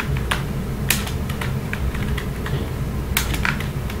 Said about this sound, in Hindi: उसके बाद हमने यहाँ पे कुछ टाइप किया